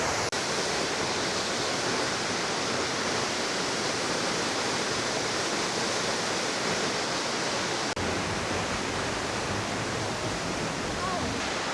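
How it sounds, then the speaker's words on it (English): A waterfall pours down into a river, its steady broadband rush of falling water continuous and close, filling the whole scene without any voices. "So the waterfall comes down, goes down that way to the next waterfall."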